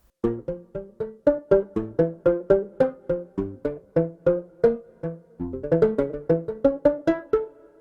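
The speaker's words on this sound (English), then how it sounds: "the banjo on its own just sounds like this" A virtual banjo playing by itself, with a run of soft, clipped, plucky notes in a steady rhythm that speeds up briefly near the end, close and clean with no talking.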